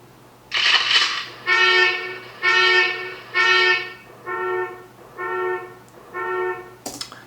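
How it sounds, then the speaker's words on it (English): Seven car alarm honks in a steady rhythm, the first four bright and full, the last three duller and muffled as if far off, followed by a brief sharp noise at the end. "I actually make the car alarms go into a reverb mode where they sound more distant."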